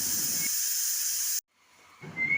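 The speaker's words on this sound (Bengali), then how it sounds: "এই যে প্রেশার কুকারে এবার সিটি দিয়ে নেব ডালটা সেদ্ধ করার জন্য" A pressure cooker boiling dal in a home kitchen gives off a loud, steady hiss of escaping steam that cuts out abruptly, then returns and builds again.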